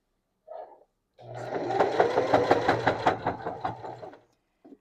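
A sewing machine stitches fabric for a throw pillow in one close, rapid mechanical run of about three seconds, with a brief soft handling sound before and after it and no voice.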